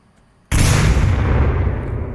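Several grenades detonate at once in the VR shooter Onward, one loud close blast at about half a second that hangs on as a long rumbling roar filling the rest of the moment, with no talking.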